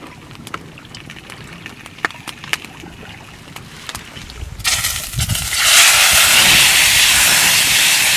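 Faint clicks and crackles give way to a loud, sustained hiss as a hot frying pan from frying crucian carp at a fishing camp meets water, the steam rushing and holding steady.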